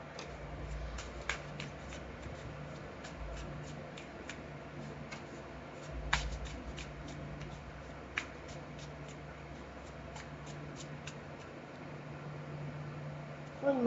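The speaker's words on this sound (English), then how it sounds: "One more shuffle." Soft, rapid riffling of cards, repeated in short bursts over a steady low hiss, close and quiet with no talking.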